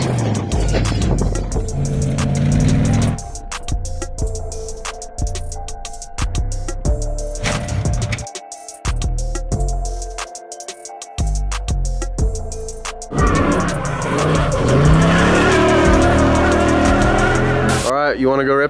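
A Ranger pickup built as a rough off-road rig is driven hard, its loud engine roaring and revving close by in surging waves while people talk over it.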